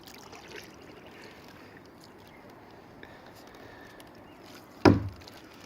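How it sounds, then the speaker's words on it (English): A single one-handed paddle stroke from a boat at night under a full moon gives one sharp splash near the end, after a quiet stretch of faint lapping water. "the old one-handed paddle"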